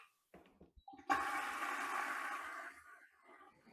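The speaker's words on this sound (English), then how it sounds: "It flushes quietly and efficiently, no matter what your home plumbing is like." A Bazyths ZYS1 smart toilet flushing, a steady rushing surge of water lasting about two seconds, close and moderately quiet, preceded by faint clicks and followed by a softer trickle as the flush settles.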